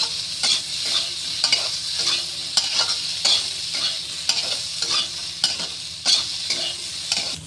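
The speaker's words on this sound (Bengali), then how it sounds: "এই দিয়ে আমি একটু নেড়ে চেড়ে দিলাম" A spoon stirs vegetables with turmeric in a hot, sizzling pan, giving steady frying hiss broken by repeated scraping strokes at an irregular rhythm, close and fairly loud, with no talk.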